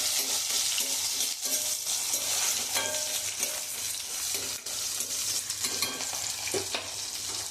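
Garlic cloves and small shallots sizzle steadily in hot oil for a Tamil Nadu brinjal curry, a continuous bright frying hiss with occasional spoon scrapes and stirring clatter, close up and with no talking.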